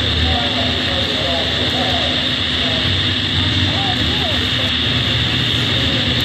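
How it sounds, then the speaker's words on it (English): A jet airliner roars steadily as it takes off from Fort Lauderdale International Airport, a constant heavy engine drone with a steady whine on top and faint speech mixed beneath it. "There we go, we have a takeoff."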